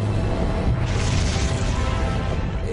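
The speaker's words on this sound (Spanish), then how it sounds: "Se hubiese producido una explosión enorme con fragmentos de material fundido volando alrededor de la Tierra" A meteor impact explosion, the kind of blast made by a large object striking the ground, rises into a deep roaring boom that swells and sustains for a couple of seconds over a low rumble.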